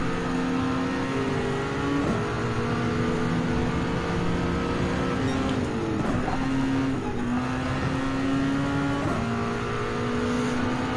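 A race car engine in the Gran Turismo 7 video game drones loudly and steadily, pitch stepping up and dropping with gear shifts as it races in the wet, with no voices.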